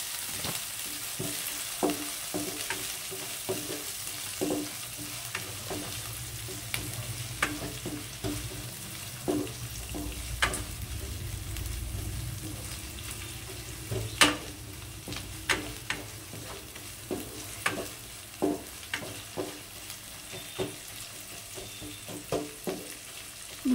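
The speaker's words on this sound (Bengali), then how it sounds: "ভালো করে এটাকে লাল লাল করে ভেজে নিতে হবে, একটু লো ফ্লেমে রেখেই" Onion, ginger and garlic fry gently on a low flame, a soft steady sizzle with regular taps and scrapes of a spoon stirring in the pan.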